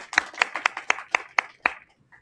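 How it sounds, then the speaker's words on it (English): A small group claps for guest Anna Mueller at the start of a sociology talk: about nine crisp, evenly spaced claps, close and clear, with no talking. "So how about we start with some applause for Anna, just to thank her for joining."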